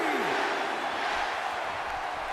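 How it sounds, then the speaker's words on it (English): A dense crowd roars steadily and loudly throughout a WWE 2K18 video game wrestling match, a continuous arena din with no break and no separate voices standing out. "Starting off the crowd to yes chant"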